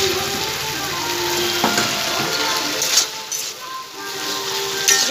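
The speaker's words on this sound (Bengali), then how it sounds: "মশলাটা দিয়ে এঁচোড়টা ভালো করে কষিয়ে নেবো" Young jackfruit sizzling in a spice paste in a hot pan, a steady loud frying hiss with occasional scrapes and clinks of a spoon stirring through it, close up and without speech.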